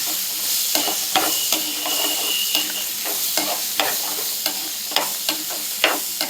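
Chopped tomatoes sauté in a pan, sizzling steadily up close while a spatula scrapes and taps through it in a quick, irregular rhythm.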